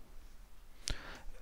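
A single sharp computer mouse click, clicking New while editing a system path variable during a computer lab exercise, stands alone against a quiet background.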